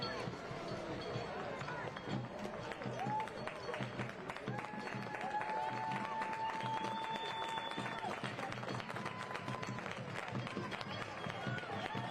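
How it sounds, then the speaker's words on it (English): A football-match crowd applauds two departing players, steady clapping and crowd noise running throughout, with a commentator talking over it and a few whistle-like tones. "The crowd on this near side giving a nice hand to the two departing players in Rapp and Jaskinek."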